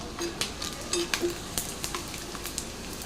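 Chicken pieces fry in hot oil, a soft steady sizzle with scattered sharp pops and crackles over about three seconds, close and fairly quiet.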